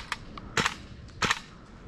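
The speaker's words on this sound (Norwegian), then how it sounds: "Hørte du de klankene? 3 skudda der." Three sharp airsoft gunshots crack at a large milsim event in the woods, each a short, snappy report spaced roughly half a second apart, moderately close, with no voices.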